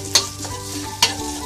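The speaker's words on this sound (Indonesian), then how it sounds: "Goreng dulu ayamnya hingga matang." Minced, seasoned chicken breast fries in a pan with a steady close sizzle, and two sharp clatters of stirring come about a second apart.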